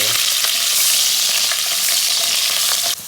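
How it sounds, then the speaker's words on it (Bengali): Wet potato pieces fry in hot oil with a loud, dense crackling sizzle, close up and continuous, ending abruptly near the end, with no talking. "এই যে আলুতে মনে হয় জল ছিল, তাই এত টুকুর টুকুর করছে।"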